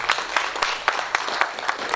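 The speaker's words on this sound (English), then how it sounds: "Another huge round of applause for him" Audience applause at a tourism symposium in Zimbabwe, a dense burst of clapping from a crowd in a hall, steady and moderately loud with rhythmic peaks across two seconds.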